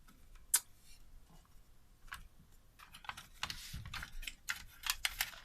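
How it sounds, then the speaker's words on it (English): Screws being removed from an Atari XF551 disk drive, with scattered small clicks, ticks and scraping taps of a screwdriver and metal parts, close and fairly quiet, growing busier toward the end. "we have to remove those other screws here, here,"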